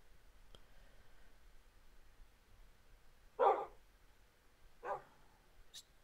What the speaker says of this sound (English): These dogs are barking in like virtual sound.